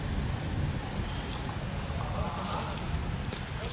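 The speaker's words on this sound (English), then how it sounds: "It's downpouring." Heavy rain pours down in a downpour during a rare storm in Egypt, a dense, steady roaring hiss close by that holds at the same loud level throughout.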